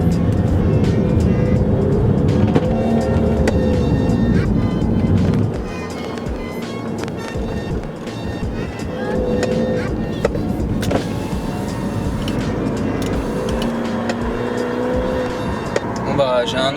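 An Audi A3 on a road test after a full reassembly, its engine droning steadily and revving up under acceleration from inside the car, with varying load and faint rattles throughout.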